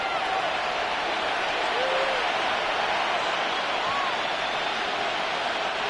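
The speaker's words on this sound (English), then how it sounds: "And the crowd a major factor now." A roaring stadium crowd in an EA Sports football video game forms a dense, steady wash of noise near the end of a close game, with an announcer speaking over it.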